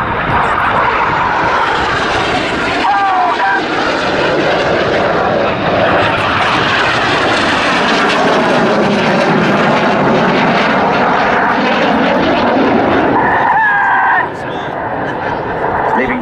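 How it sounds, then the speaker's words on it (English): Red Arrows display jets roar overhead at full power at an air show, a loud continuous rushing engine drone that swells and shifts as they pass, with a voice talking over it. "Full power on the jets."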